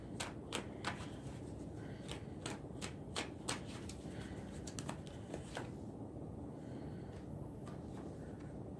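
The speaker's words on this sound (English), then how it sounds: "I would like to pull just from out of my regular big old huge deck, just a card for the day too." A large tarot deck being shuffled and cards pulled by hand, a rapid run of crisp riffling snaps and flicks up close, then softer slides and rustles as single cards are drawn.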